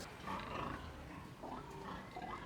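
Pigs grunt and oink inside a pig house on a farm, a cluster of low, rough snorts and squeals overlapping at close range, without any speech.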